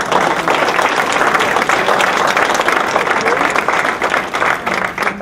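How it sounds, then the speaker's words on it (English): A crowd applauds loudly and steadily, a dense wash of clapping that tapers slightly toward the end. "let's give all our candidates another round of applause"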